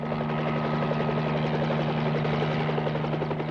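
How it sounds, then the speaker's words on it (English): A border patrol police helicopter flies overhead with a loud, steady rotor throb and engine drone, close and constant, no voices present. "Helicopters keep watch along the border."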